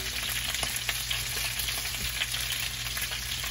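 Steady crackling sizzle of chicken frying in a pan, nearly browned, dense popping spatter close by, continuous throughout with no speech.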